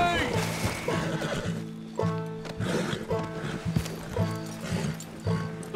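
A horse whinnies loudly in the video game Red Dead Redemption 2, with clip-clopping hooves and a character talking alongside.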